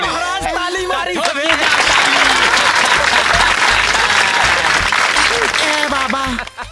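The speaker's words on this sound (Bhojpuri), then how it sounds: "ताली मारी।" A crowd claps loudly in a broadband burst that swells and holds for several seconds, with voices heard over it at the start and again near the end in a Bhojpuri action comedy scene.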